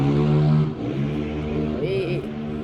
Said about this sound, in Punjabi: ਇੰਨੀ ਤੇਜ਼ ਆਵਾਜ਼ ਹੈ ਬਾਈਕ ਚਲਾ ਰਹੇ ਨਾ ਅੱਜ ਕੱਲ੍ਹ